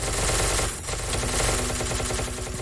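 Rapid automatic gunfire in a Minecraft SCP game, a dense, loud, continuous burst of rattling shots that runs almost without pause, briefly dipping before resuming.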